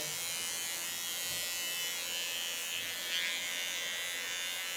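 A cordless electric hair clipper buzzes steadily while cutting a woman's short platinum blonde hair, a constant faint high whine with no talking.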